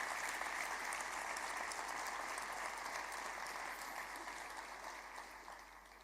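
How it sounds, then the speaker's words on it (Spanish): Church congregation applauding in a sustained wash of dense clapping that holds steady, then gradually fades toward the end. "Aplauda al Señor."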